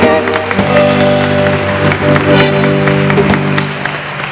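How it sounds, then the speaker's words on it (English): At a 1988 Irish festival in Brockton, Massachusetts, an audience applauds, a loud, continuous wash of clapping from the crowd mixed with a steady tonal hum throughout. "Would you give him a nice round of applause?"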